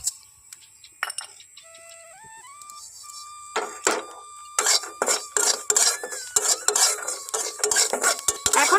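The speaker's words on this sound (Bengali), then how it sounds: "কালো জিরেটা খুব ভালোভাবে আমি এখানে একটু ভেজে নেবো" Black cumin seeds are stirred in a wok with a spatula, giving quick, repeated metallic scrapes and rattles over a faint sizzle, with a thin tone early on.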